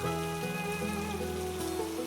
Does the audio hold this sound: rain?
yes